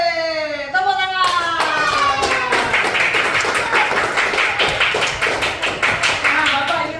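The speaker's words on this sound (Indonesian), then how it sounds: "Tepuk tangan." A classroom of primary school students claps together in a loud, sustained burst of rapid, overlapping hand claps that fills the room, following a brief spoken moment at the start.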